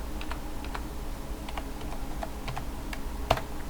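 Password keystrokes on a computer keyboard running Linux Mint 13: a sparse, irregular run of light clicking keys, fairly quiet and close, over a low steady room hum with no talking.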